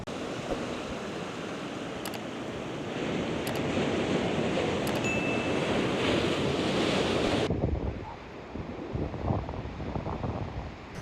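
Ocean surf rolls onto a long beach in Ireland on a calm afternoon, a continuous wash of waves heavily buffeted by wind noise on the microphone, with no voices.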